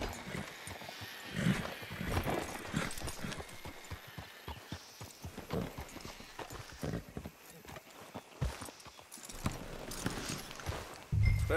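Horse hooves clip-clop in a steady, fast rhythm at moderate volume, with rumbling movement and occasional snorts in the background, from the video game Red Dead Redemption.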